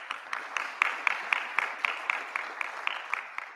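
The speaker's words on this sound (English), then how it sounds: "Golf clap, please." Light golf clap from an audience at a cybersecurity education conference event, a sparse, steady run of soft individual claps at even spacing, moderately distant, with no talking over it.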